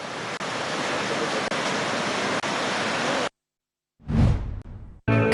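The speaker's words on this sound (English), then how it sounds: "the Polgolla Mahavali barrage opened 3 spill gates this morning as directed by the engineering office. The released water flows into Victoria Reservoir." Water rushes through three opened spill gates of the Polgolla Mahaweli barrage toward Victoria Reservoir, a loud, dense roar heard in several cuts separated by brief gaps.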